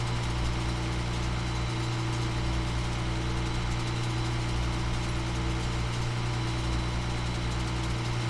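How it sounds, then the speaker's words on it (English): Fenix A320 airliner engines idling in Microsoft Flight Simulator, a steady, loud, unbroken drone with a strong low hum and broad airy noise, constant throughout with no voices. "You can hear the engines ticking."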